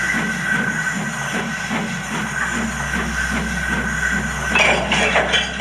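Murdock, a Thomas and Friends steam engine, puffs while pushing a train uphill, a steady rail rumble and hiss with rhythmic chuffing, loud and continuous, under no speech.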